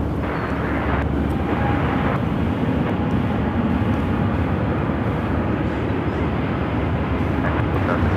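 Steady, loud jet engine roar from an Airbus A350 airliner on the ground at Phoenix airport, a broad continuous rumble with little change across the whole stretch.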